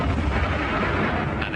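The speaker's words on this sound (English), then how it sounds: "An explosion from below." A gas explosion in Puerto Rico lets out a loud, deep, roaring blast that rumbles on without a break, with no talking.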